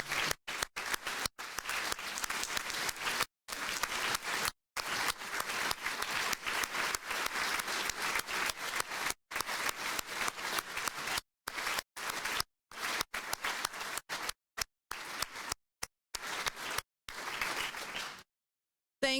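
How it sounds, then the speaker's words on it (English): Large church assembly crowd giving sustained applause during a standing vote of thanks, dense continuous clapping from many hands with the recording cutting in and out in short gaps, lasting nearly twenty seconds. "with a rising vote of thanks with applause"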